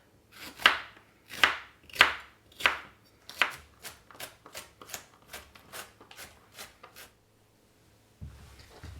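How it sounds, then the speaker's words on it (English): Knife chopping jalapeños, onions and garlic on a cutting board for chicken soup: five heavy, evenly spaced cuts, then a quicker run of lighter chops, all close and distinct with no talking. "So I'm going to get these all chopped up"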